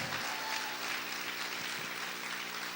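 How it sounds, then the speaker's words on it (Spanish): Congregation clapping loudly in a church service, a steady, even patter of many hands heard at a modest distance, with a faint tonal hum lingering underneath. "¿Cuántos pueden aplaudir fuerte al Señor?"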